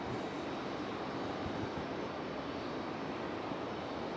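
An Airbus A319 jet departing Raleigh-Durham International Airport gives a steady, broadband engine roar, heard from a distance as a continuous even rush with no voices.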